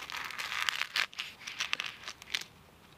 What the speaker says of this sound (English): If I take my knife and I cut this in half